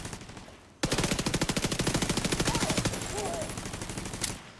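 An automated turret in The Division 2 fires a fast, steady burst of rapid shots lasting about three seconds, loud and close, then stops abruptly.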